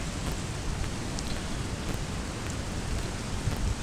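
Light morning rain at Assigny beside a lagoon, a steady soft broadband patter with scattered faint drop ticks, continuous and even throughout with no voices.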